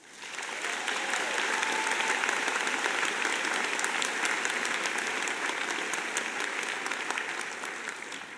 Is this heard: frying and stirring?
no